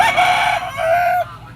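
A Boston Sweater gamecock at a weekly market gives one close, loud crow that holds steady and then cuts off abruptly.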